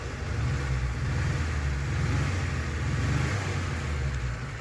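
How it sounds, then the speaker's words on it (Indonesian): A 2006 Mitsubishi T120 SS, a former Bandung public minivan, is revved repeatedly by its engine, a steady, loud, close mechanical drone that swells and eases without any other sounds. "Ini sekarang kita geber-geber."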